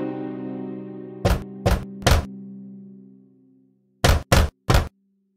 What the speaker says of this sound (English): he came in front of the cottage and knocked on the door